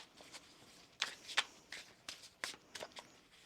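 Oracle cards from an Infinity Oracle deck being shuffled by hand, a run of quick, crisp riffles and slaps in short irregular bursts, close and fairly soft.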